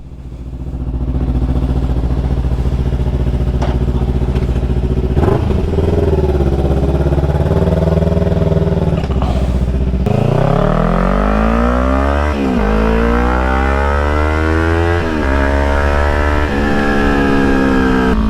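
A Kawasaki Ninja 300 motorcycle engine cranks and starts, then idles loudly up close with several sharp revs rising and falling in pitch, a steady strong drone throughout with no talking.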